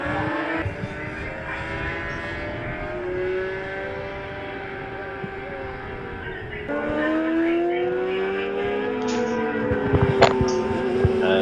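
A Yamaha TZ racing motorcycle engine screams past on a race track during a Rookie 600 race, a high rising and falling whine with gear changes, heard at a moderate distance over steady crowd and track ambience.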